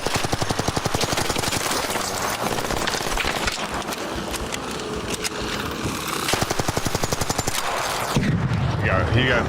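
Rapid automatic gunfire in Arc Raiders rattles continuously in loud, close bursts, ending with a heavier blast near the end, while players speak excitedly over the shooting.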